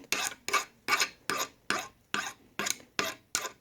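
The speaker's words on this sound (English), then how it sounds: "take your hand file and just, you know, give it a little slope all the way around" A hand file rasps across the tip of a bolt being shortened and rounded off, nine even strokes in a steady back-and-forth rhythm, close and clear with no talk.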